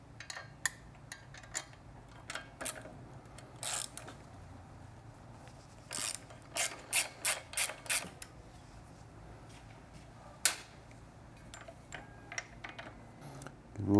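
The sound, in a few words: ratchet wrench with 6mm hex bit loosening motorcycle exhaust bolt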